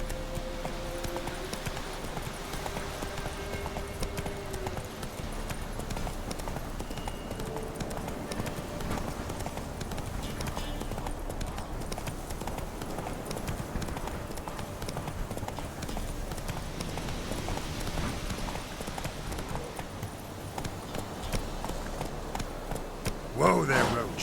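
Roach the horse galloping in The Witcher 3, a continuous rhythmic clatter of hooves at moderate volume over an ambient game backdrop, with a brief louder thump near the end.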